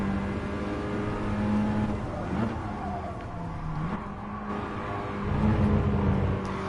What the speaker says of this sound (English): this is a pretty generic sort of 4-cylinder type sound. It's not very rotary-like.